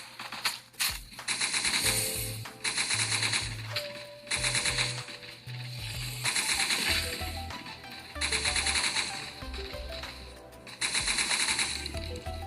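Rapid automatic gunfire in Last Day on Earth Labs rattles out in repeated bursts at zombies, each stretch of fast clattering shots broken by short pauses, loud and close with steady game ambience beneath.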